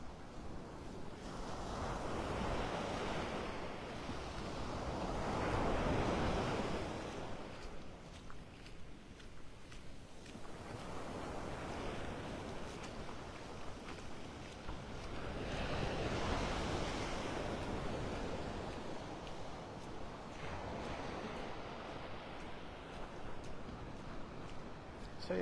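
Ocean waves washing onto a beach in North Naples, Florida at higher than normal morning tide, steady surf swelling and receding in slow surges with wind noise over the microphone.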